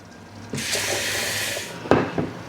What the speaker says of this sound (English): I'm going to add just a little more water